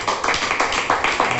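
A congregation at a church service gives a loud round of applause to the Lord, with dense, irregular clapping from many hands and rhythmic peaks running through the short burst.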